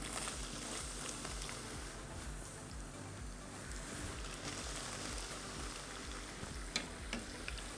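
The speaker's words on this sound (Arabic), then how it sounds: "طبعا الزيت حامي لسه. بننزل العجين كمان مثل ما حكينا على مراحل" Dough fries in hot oil for Syrian harrak osbao, a steady close sizzle and bubbling hiss that carries on evenly throughout with a few light clinks near the end.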